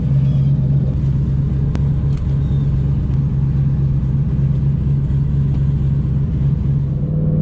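A turbocharged Mustang of over 500 horsepower drives steadily along a road, its engine humming with a constant low rumble and faint road noise, no talking.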